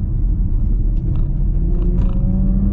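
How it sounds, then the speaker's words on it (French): Steady low V6 engine rumble from inside a moving Porsche Macan Turbo, a continuous drone with slight variations in pitch, no talking. "Je sais pas si vous entendez la sonorité du V6, mais moi je la trouve vraiment fantastique."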